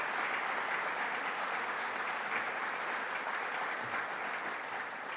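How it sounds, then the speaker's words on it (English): Steady, dense applause from an audience at a state administration briefing in Syracuse, a continuous even wash of clapping throughout at moderate level with no voices over it. "Let's give them a round of applause"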